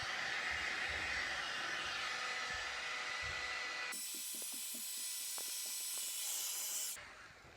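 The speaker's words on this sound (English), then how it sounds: "I point the heat gun away from the base of the ski if I'm not using it" A heat gun blows warm air over klister wax on a ski base, giving a continuous loud hiss that changes tone partway through and cuts off near the end.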